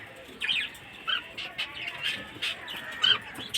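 Pet lovebirds in a backyard colony give shrill, sharp chirps and squawks in short bursts while being fed beans, the calls fairly close and moderately loud over quiet background noise.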